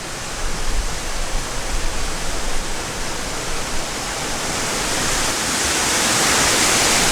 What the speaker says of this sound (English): The big old waterfall that's going to get my camera all wet if I get too close.